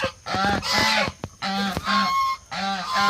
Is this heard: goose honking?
yes